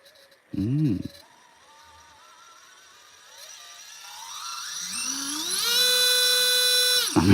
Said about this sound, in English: that motor is absolutely flying, isn't it? Gee whiz, look how quick that goes.